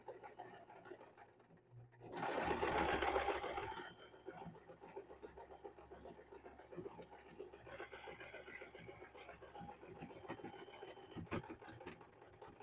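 A sewing machine back-stitches across a dish drying mat. It gives a short, loud, steady whirring burst, then a softer, scratchy working sound continues at low level.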